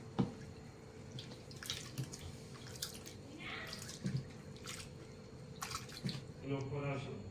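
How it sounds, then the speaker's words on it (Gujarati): Flattened rice (poha) rinsed a second time in fresh water in a home kitchen, with gentle splashing and dripping in uneven bursts, close and soft, a voice speaking at moments. "આપણે બીજી વાર પાણી લઈશું અને ધોઈ કાઢીશું."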